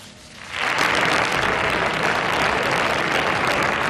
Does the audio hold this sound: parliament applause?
yes